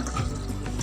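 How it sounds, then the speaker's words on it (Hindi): Water pours into kofta masala in a cooking pot, a short continuous splashing gush with no speech. "थोड़ा सा पानी इसमें ऐड कर रही हूँ"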